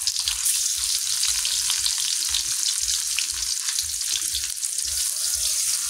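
Tofu pieces dipped in chili salt sizzle steadily in hot oil, a continuous bright frying hiss with faint low bubbling throughout, close and alone with no talk.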